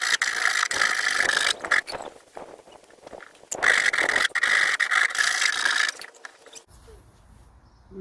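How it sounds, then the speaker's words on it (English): Hand file rasping down a raised cut edge on pallet wood for a planter box, two long bursts of steady scraping strokes, close and fairly loud, separated by a brief pause, with no talking. "so I'm just going to go ahead and file that off."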